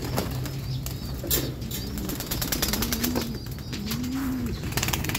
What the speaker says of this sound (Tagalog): papakain tayo ng mga ibon natin galing sa